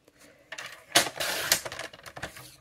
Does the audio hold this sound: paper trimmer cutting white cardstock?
yes